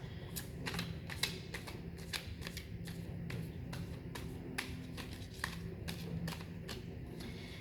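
Tarot cards being shuffled by hand nearby, a run of quick riffling snaps and soft slaps repeating in an uneven rhythm, fairly faint with no talking over it.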